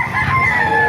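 Chickens and roosters at a crowded chicken market in Baliuag, Bulacan, a loud nearby rooster crow rising over a dense background of clucking fowl.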